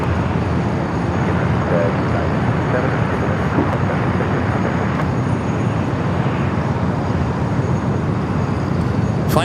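An American Airlines Boeing 777-300ER rolls for takeoff on runway 25 right at Los Angeles airport, a steady loud broadband jet roar holding constant throughout, close and continuous with no breaks.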